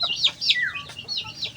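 Gamefowl fighting chickens cluck and chatter in quick, close bursts for a brief moment, with no one talking.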